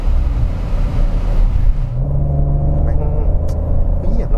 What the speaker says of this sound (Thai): ดูเสียงท่อมันปรุงเวลา ตามสไตล์มันเลยอ่ะ